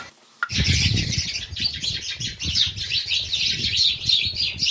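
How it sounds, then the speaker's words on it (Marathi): Dense, continuous chirping from many house sparrows, loud and close, a constant chattering chorus with no pauses after a brief quiet start. "इतक्या चिमण्यांचा कलकलाट चालू आहे"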